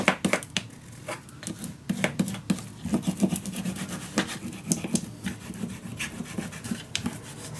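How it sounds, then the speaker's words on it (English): Paper is burnished down by hand, with repeated short rubbing and scraping strokes in an irregular rhythm. The strokes are close and moderately loud, with no speech. "Work till the end. And burnish it down."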